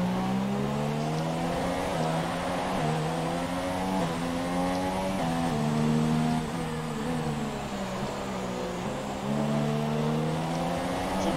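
Formula 1 race cars in F1 2017 at the Singapore Grand Prix start roar together, high engine tones climbing through gear changes in stepped rising sweeps, loud and continuous for several seconds with no talk.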